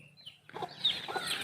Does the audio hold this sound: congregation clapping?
no